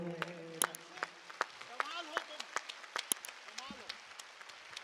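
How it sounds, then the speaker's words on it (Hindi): Scattered, sparse hand claps from an audience at a Hindi humorous poetry gathering on an evening in Kolkata, individual sharp claps spread across a few seconds under a speaking voice. "अपने आप आपने स्वतः स्फूर्त ताली भी बजाई"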